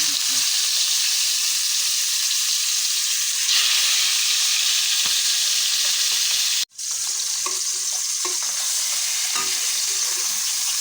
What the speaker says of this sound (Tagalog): Prito natin.